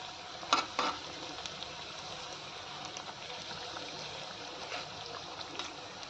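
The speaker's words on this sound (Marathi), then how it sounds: "आता दुसऱ्याही बाजूनी लाल रंगावरती मिरची आपल्याला तळून घ्यायची आहे।" Besan-coated mild green chillies frying in hot oil, turned to brown on the second side: a steady soft sizzling hiss with a couple of small pops near the start, no talking.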